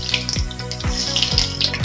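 Mustard seeds hit hot coconut oil in a pan while a beetroot pachadi is being cooked, giving a steady close sizzle with repeated bursts of crackle and no talking.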